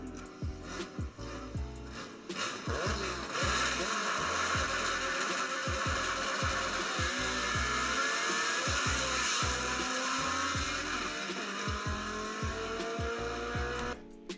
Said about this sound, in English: The hatch sounds good in person too.